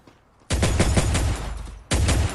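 Gunfire in a shooting video game: a rapid burst of automatic shots lasting about a second, then a brief pause and a second burst starting, loud and close with no talk.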